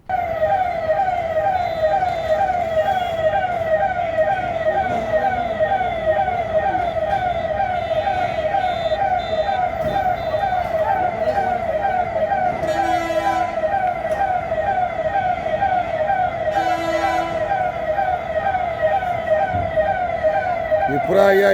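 Fire engine sirens wail loud and continuous near a blazing CMR shopping mall in Uppal, Hyderabad, the repeating tones overlapping with traffic noise and occasional voices.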